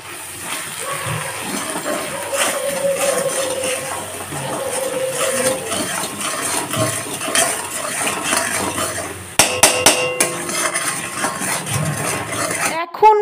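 Spice paste with sugar, salt, turmeric, cumin, chilli and coriander powders is stir-fried in a pan, a metal spatula scraping and clinking repeatedly with sizzling underneath, ending in a few sharper knocks.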